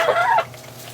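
One brief, loud honking call comes from domestic geese or ducks inside their farm building. A low steady hum continues after the call.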